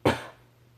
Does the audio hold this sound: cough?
yes